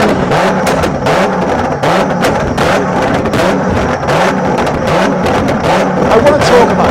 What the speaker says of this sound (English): Now we've got this 190 doing pop bang as well.